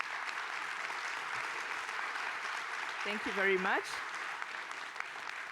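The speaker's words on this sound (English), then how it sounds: "Let's give a big round of applause to our presenters." An audience at a cancer conference session applauds the presenters with steady, moderate clapping throughout, while a voice briefly speaks over it near the middle.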